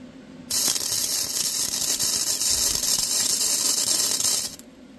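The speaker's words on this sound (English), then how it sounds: "We'll give her another shot of weld" A flux core welder lays a continuous weld on a 366 big block Chevy job, a steady harsh crackling hiss that starts abruptly, holds for about four seconds, then cuts off.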